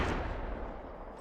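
A single short gunshot from Ned's gun in a video game, with a loud, heavy blast that booms and then fades quickly.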